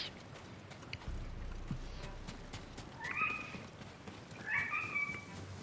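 A grown pet cat lets out two short meows over a steady background of video game ambience, fairly faint and close.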